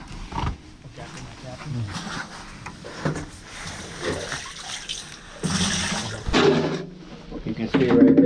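Water purging back into an underground oil tank hole during tank removal, gurgling and splashing in bursts beneath ongoing talk from people nearby.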